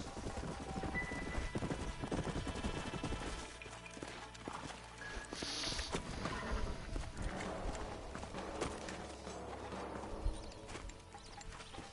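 Several horses in the Red Dead Redemption video game clip-clop along at a trot with an occasional neigh, hoofbeats steady and close over a background music score.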